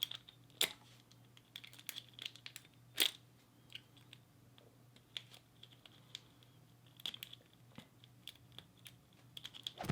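A Master Lock 570 padlock is picked with a professional lock pick set: faint scattered clicks and scraping ticks of metal picks in the keyway, with a few sharper snaps, over a low steady hum.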